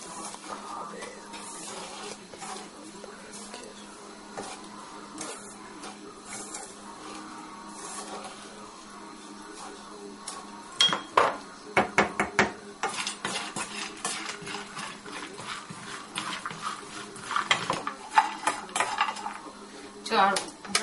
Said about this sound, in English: Now you can see nuts are roasting away.